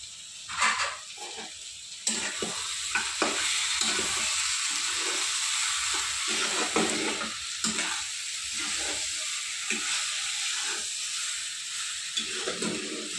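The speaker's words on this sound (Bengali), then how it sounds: "এবার আমি ভাজা বড়িগুলো দিয়ে দেবো" Fried bori lentil nuggets stirred into kalmi greens frying in a pan, a steady soft sizzle broken by repeated scraping stirs and clinks of the spatula, close and moderately quiet.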